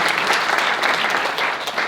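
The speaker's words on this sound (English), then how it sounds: "can we just give a quick round of applause to everybody" The crowd at a lightweight intercollegiate startup pitch competition during San Diego Startup Week claps for the participants, a full lively burst of many hands, close and steady, easing slightly toward the end.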